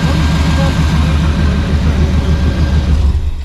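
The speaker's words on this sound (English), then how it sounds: "Listen to that purr." A 1970 Chevelle with a 350 V8 and a misfire idles close by, a steady, loud, low rumble that holds level throughout with no talking.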